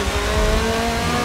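Nissan GT-R engine at full throttle on the Nürburgring in Forza Motorsport 7, a loud, dense, sustained roar with a steady tonal drone, close and continuous throughout.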